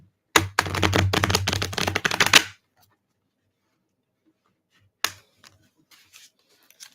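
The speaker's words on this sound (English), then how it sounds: "let's shuffle in order to introduce a little bit more chaos into these cards" A deck of cards is shuffled in one dense, crackling riffle lasting about two seconds. A second brief flutter and a few soft taps of the cards follow after a pause.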